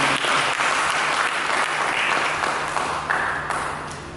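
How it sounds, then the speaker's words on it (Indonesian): A church congregation breaks into loud, continuous applause, a dense crowd of clapping hands that gradually tapers off near the close. "Mari kita berikan tepuk tangan."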